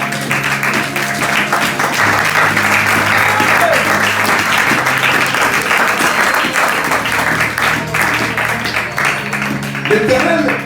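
A church congregation at a Sunday service applauding and cheering in praise, loud sustained clapping filling the hall with voices mixed in throughout.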